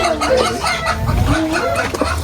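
Chickens cluck and squawk close by in a noisy, bustling yard, with faint background voices mixed in.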